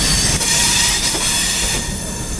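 Kochuveli Superfast Express 22113 running on tracks near Vidyavihar in Mumbai, a steady loud rumble of railcars with wheel squeal and rail noise throughout, no voices.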